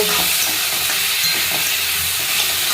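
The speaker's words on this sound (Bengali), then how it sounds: "আলু ভাজা" Potatoes fry in a pan, a loud, close, unbroken sizzle with faint stirring knocks underneath and no talking.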